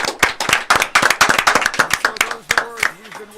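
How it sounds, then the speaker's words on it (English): A studio crowd claps together during a live draft reaction show, a dense run of sharp, rhythmic hand claps up close, with voices talking and murmuring underneath. "Clap it up."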